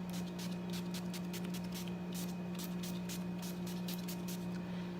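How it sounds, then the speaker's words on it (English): Rapid puffs of makeup finishing spray misted onto a face, a dozen or so short hissing bursts in quick succession over a steady background hum. "Actually, I forgot to spray my face."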